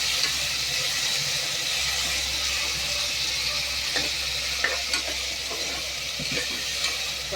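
Chopped tomatoes and onions sautéing in a pan for avarakkai rice, a steady close sizzle with soft stirring scrapes and occasional pops, no talking.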